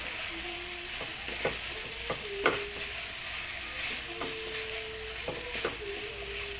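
Beef and broccoli stir fry in sesame oil being stirred in a pan, with a constant close sizzle broken by repeated spatula scrapes and light taps at an uneven rhythm.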